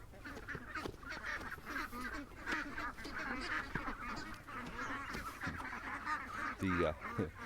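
Ducks quack and honk in a busy, overlapping chorus close by during a morning feeding routine, with a louder burst of calls near the end.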